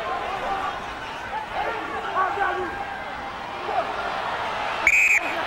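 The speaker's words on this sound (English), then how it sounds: "the whistle." Over a busy crowd murmur at a rugby match, a single shrill referee's whistle blast sounds briefly near the end, loud and clear above the chatter.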